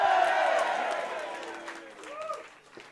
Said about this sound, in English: Let's hear it for the guy who just bought me another drink.